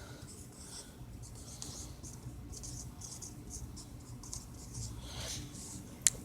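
Pen or pencil writing on paper during a math lesson, a soft continuous scratching close to the microphone with faint strokes throughout and a sharp tap at the very end.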